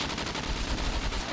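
Continuous loud gunfire rattles in the survival shooter SCUM during a PvP event, a dense stream of rapid automatic shots blending into one heavy roar.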